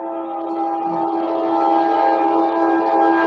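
A passing train's sustained, tonal horn blares steadily on a city street, loud and fairly close, holding a droning chord for several seconds.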